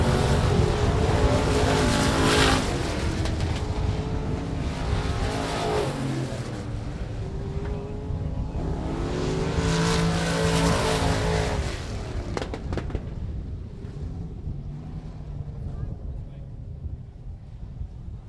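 Limited modified dirt track race cars roar through a hot lap session, loud continuous engine noise rising and falling as cars pass near, with an announcer's voice over a PA under the roar.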